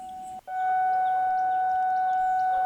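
A steady, pure electronic sine-wave test tone holds unbroken after a brief dropout near the start, loud and constant with no voices.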